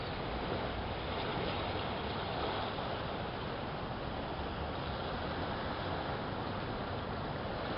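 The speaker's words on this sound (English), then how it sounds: "You can hear the waves." Steady broadband wash of water from the flooded Kennebec River lapping at a waterfront park, constant and fairly loud throughout with some wind noise, no talking.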